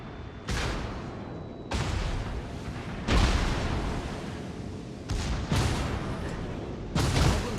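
Naval artillery fire from warship main turrets in the World of Warships: Legends video game, with four heavy booming salvos spaced about 1.5 seconds apart, each a sudden loud blast that trails off into a long rumbling decay.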